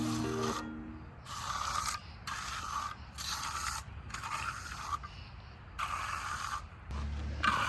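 Wet concrete poured for stair stringers on a front porch is smoothed with a trowel, a close rhythmic scraping rasp in about seven regular strokes, each lasting under a second.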